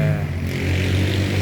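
A motorcycle passing close by, its engine droning in a steady low growl for a brief moment, fairly loud with a slight rise in tone.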